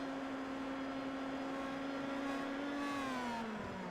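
A Pro Mazda race car sweeps through the carousel at Road America, its engine holding a sustained high, buzzing note that slides lower near the end, heard at a moderate distance with no talk.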